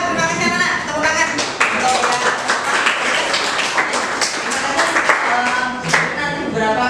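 Schoolchildren clap their hands together in a classroom, a dense run of sharp, overlapping claps sustained steadily at close range with no pauses throughout.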